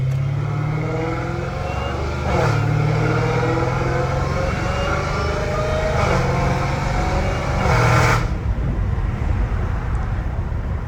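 A Dodge Hellcat Redeye with slightly loose exhaust pipes and an exhaust leak drones loudly and steadily, with a deep rumbling tone and a couple of brief swells in revs.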